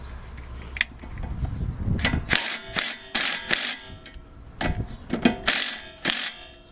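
Ratchet wrench loosening an 18 mm nut on a car's shock absorber during a coilover install, with several short bursts of clicking ratchet strokes separated by brief pauses, close up with no talking.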